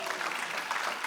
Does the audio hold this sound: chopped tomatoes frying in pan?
no